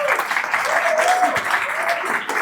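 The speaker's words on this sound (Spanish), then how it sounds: "Entonces un aplauso por favor para Hugo." An audience at a startup pitch demo day applauds, a dense, steady burst of clapping for a couple of seconds, close and loud, with no voices over it.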